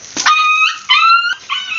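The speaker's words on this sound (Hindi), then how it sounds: "कुत्ते को मार दे तो रो रहा है" A dog in a village field whimpers and cries after being hit, giving three close, loud, high-pitched whining yelps in quick succession.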